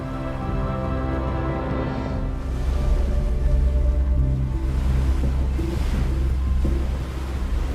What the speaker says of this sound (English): Wind's picking up. It's starting to pick up as it comes around there.